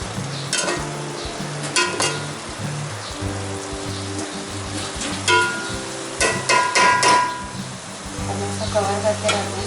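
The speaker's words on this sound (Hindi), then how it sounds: "कुछ टाइम भूनेंगे। ये दही अपना पानी छोड़ दे और जो है वो अलग छोड़ देगा मसाले को" Spiced masala and yogurt frying in a pot for Moradabadi pulao: a steady crackling sizzle with repeated scraping stirs of a spoon against the pot, close and continuous, louder bursts as the mixture is turned.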